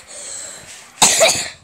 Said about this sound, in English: sometimes I will just cough for no reason